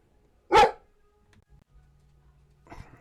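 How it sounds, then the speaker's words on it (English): Dogs barking in a quiet room: one sharp, loud bark near the start, then near silence with a faint low hum, and another softer burst of barking at the very end. "The dogs are being loud."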